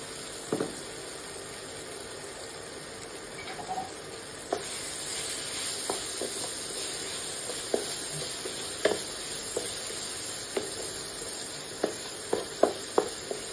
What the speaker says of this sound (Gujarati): અને હવે આ જે કાચા કેળા લીધા હતા એ આપણે ઉમેરી લઈશું